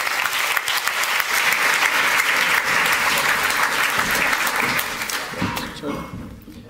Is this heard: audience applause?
yes